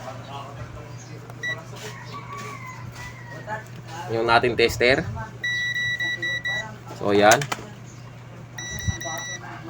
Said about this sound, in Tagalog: So lalagay ko na lang sa buzzer mode para marinig ninyo